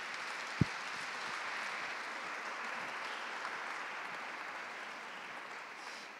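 An audience at a festival talk with a comedian gives a fairly quiet, steady round of applause, a uniform wash of clapping with one brief thump near the start.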